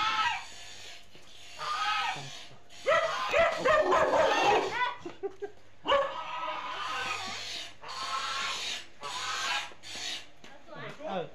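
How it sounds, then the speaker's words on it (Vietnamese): Several fierce dogs at a house bark, yip and whimper in loud, overlapping bursts that keep coming in waves, with voices mixed in among the barking. "Nhà bắt thợ có mấy con chó khá là dữ đấy."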